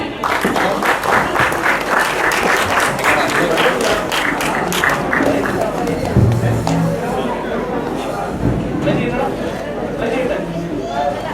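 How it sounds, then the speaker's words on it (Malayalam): A large audience at the Shalom 2026 event applauds in a dense, sustained wash of clapping that stays loud and even throughout, with voices and crowd chatter underneath. "അവരുടെ വിരലിന് തന്നെ ഒരു കൈയടി കൊടുത്തേ മക്കളെ."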